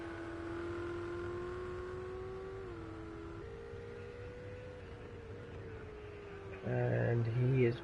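Ferrari race car engine in Project CARS 2 on a warm-up lap through the final corner at Dubai, a steady sustained drone that shifts pitch, rising into a louder burst near the end, with commentary voices over it.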